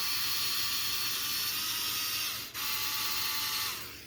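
A steady whirring, ratcheting mechanical rattle comes from an axle bushing assembly being tightened and spun. It runs continuously and close, with one brief dip near the middle and no talk.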